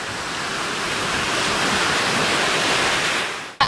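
Rough ocean waves and surf wash onto a Cape Cod beach in a continuous broad roar, loud and even throughout with no talk.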